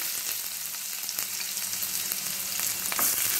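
Small shallots and garlic cloves fry with fenugreek in oil for a lentil-ball kulambu, giving a continuous close sizzle with occasional stirring clicks and no talking.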